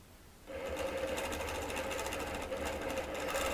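A sewing machine quilts a border design, starting after a quiet half second and then running in a loud, steady, rapid mechanical hum with close needle clatter.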